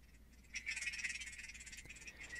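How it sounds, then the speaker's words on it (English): Night insect ambience of chirring crickets in an adaptive video game score, a dense, rapidly pulsing high trill that swells in and holds steady, soft and alone. "if we're moving around a lot at night, we're busy, then the activity level will come up and the crickets will fade in"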